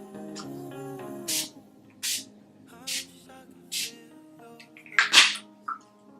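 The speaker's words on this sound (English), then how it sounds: "So I'm just going to spray this onto my face." Four short bursts of fine spray from a spray bottle misting a face, evenly spaced, then a quicker pair of hisses, over quiet background music.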